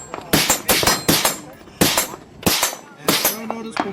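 About seven shots from suppressed SOLGW Blasters rifles crack out close by in an uneven series, each a sharp report with a short tail.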